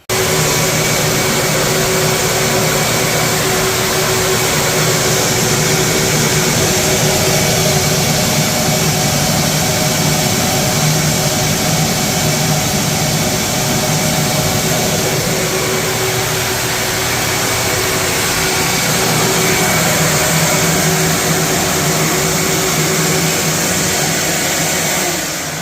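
Six motors on an air filter flow-test rig run together at full power with no bleed valves open, giving a loud, steady, broadband roar and whine that holds constant throughout.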